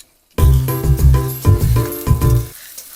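Ginger-garlic paste hits hot oil in a pan and sizzles loudly after a moment of silence, with bursts of crackling and stirring scrapes until it fades near the end.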